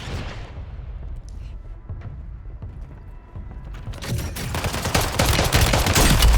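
Enemy gunfire in a battle royale video game builds from scattered distant cracks into dense, loud bursts of rapid shots near the end, layered over game ambience and movement.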